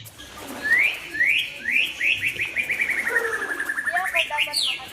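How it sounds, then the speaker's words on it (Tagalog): A bird sings a long melodic run of rising chirps and whistled notes, clear and close, swelling into a sustained trill before breaking into shorter calls, set in a Filipino folk tale of the Adarna bird. "Dumating ang ibon, umawit ng 7 beses at nagbago ng kulay."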